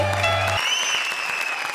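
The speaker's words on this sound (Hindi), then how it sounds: "जोरदार तालियां रक्षांदा और रहमान के लिए" Applause from a studio audience at a comedy show wells up as a pair of performers is introduced, a short, steady wash of clapping heard as music fades out beneath it.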